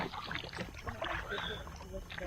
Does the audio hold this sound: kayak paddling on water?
yes